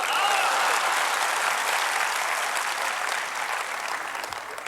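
A large audience claps in unison as a rehearsal at a public event with Rekha Gupta and Anupam Kher, a dense, loud wall of applause that holds steady and thins slightly toward the end.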